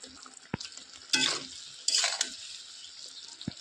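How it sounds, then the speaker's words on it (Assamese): Amla, Indian gooseberries, are stirred in a pan for a sweet pickle: a few sharp spoon knocks and short bursts of scraping and sizzle, close and fairly quiet. "এনেকৈয়ে আমলখিকেইটা ইয়াত লৰাই থাকোঁ"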